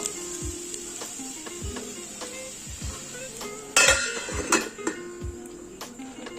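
Metal lid set onto a cooking pot of chicken fried pulao with the gas turned off, a few clanks and a sharp rattling clatter as the lid settles, amid light kitchen handling sounds.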